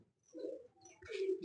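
A pigeon gives a brief low coo, quiet and close, with no other sound around it.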